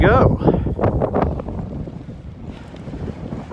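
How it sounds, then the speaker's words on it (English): Wind buffets a microphone on a sailboat out on open water, with gusty rumbling and a louder whoosh at the start that eases into a steady rush. "you start heading in a different direction and the wind reminds you of its presence"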